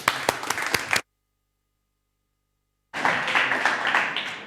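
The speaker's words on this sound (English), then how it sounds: "Can we have a big round of applause, please, for Punit Agrawal and the Founder's Mind?" Audience applause for Punit Agrawal at a stage talk: about a second of clapping, then a sudden gap of silence, then a fuller, steady wash of applause resuming near the end.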